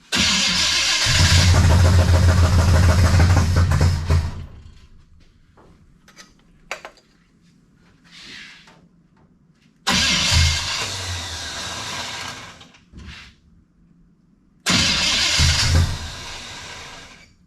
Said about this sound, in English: About the time it tries to bust off, it hits that spot on the flywheel.